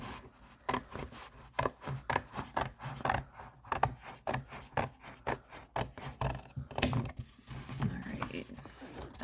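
A cardboard box being cut along its crease, a quick series of rasping, scraping strokes in a fairly regular rhythm, close and moderately loud, with no talk.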